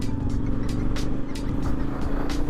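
An off-road vehicle engine runs with a steady low rumble and repeated swells as the throttle opens, heard close and continuous with no talk.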